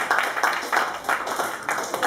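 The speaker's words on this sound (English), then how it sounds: "Clap for can on a stick." Applause from a small live comedy-night audience, a dense patter of hands clapping in repeated swells, moderately loud and continuous for a couple of seconds.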